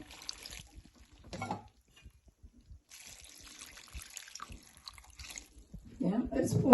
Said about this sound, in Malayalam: നേരത്തെ പച്ചവെള്ളം ഒഴിക്കുക.